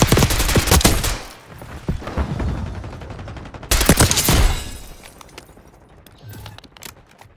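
Rapid AK-74 automatic gunfire in Call of Duty Black Ops 6 multiplayer: two loud, close bursts of shots, the second starting near the middle of the clip, with quieter gaps and a faint voice between them.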